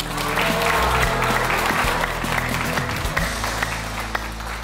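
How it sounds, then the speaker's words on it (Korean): Audience applause greets a contestant at a quiz show held at a Korean religious hall, a steady, dense round of clapping that runs throughout over a low, constant hum. "오늘 박수 소리가 제일 컸는데"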